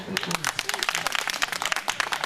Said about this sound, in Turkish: Bir de son kez şöyle bir kuvvetli bir alkış kesin değerli başkanım